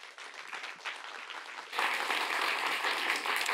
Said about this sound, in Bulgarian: Вашите силни аплодисменти за Весела Герчева.